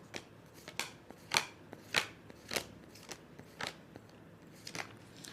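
Tarot cards being shuffled by hand, heard as about a dozen crisp, close riffling snaps at an uneven rhythm with quiet gaps in between.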